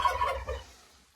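A turkey in a backyard poultry enclosure lets out a short, fast gobbling burst, close and fairly loud, fading away within a second.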